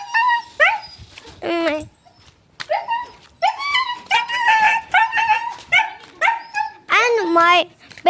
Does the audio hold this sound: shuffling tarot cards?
no